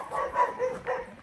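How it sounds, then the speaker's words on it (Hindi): A neighbour's dog barks in a yard, a few soft, muffled woofs at moderate distance, rising and falling in a loose rhythm with no voices. "देखो पड़ोसी का कुत्ता जो है फिर वहाँ पे लगा हुआ"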